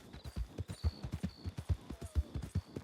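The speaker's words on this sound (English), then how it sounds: "Unless he got scared at hearing a fast-moving horse." Fast-moving horse in the RedM game on the WildRP server, its hooves clopping in a quick, steady rhythm across the whole stretch, moderately close and alone.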